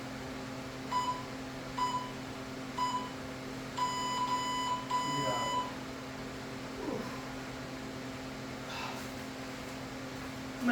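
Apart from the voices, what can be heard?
workout timer beeping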